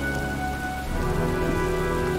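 Rain pours steadily during a thunderstorm in Heavy Rain, a dense loud hiss throughout, with a low rumble of thunder swelling just past the midpoint and no voices.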